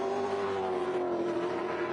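A Supercars race car on track, its engine holding a steady sustained drone with a slowly falling pitch as it runs at speed, close and continuous with no voices over it.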